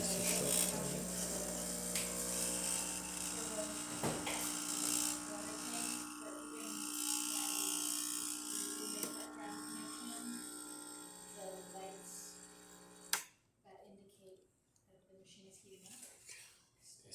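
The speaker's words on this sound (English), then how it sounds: "So let's get a espresso shot on it." A Rancilio espresso machine, freshly serviced with a new gasket, pulls a shot with a steady pump hum and buzzing vibration that runs for about thirteen seconds and then cuts off, with quiet sounds after.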